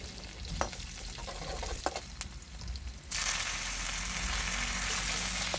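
Cashews, green chillies and curry leaves frying in hot oil for a coconut rice tempering, a steady close sizzle with a few stirring clinks that swells into a louder, denser crackle partway through.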